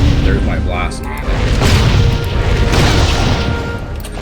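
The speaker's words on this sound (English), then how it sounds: "So there's my blast cannon." Blast cannon weapon firing in the video game Torchlight 2, heavy booming explosive bursts that rumble and overlap, loud and sustained, with a voice speaking over the blasts.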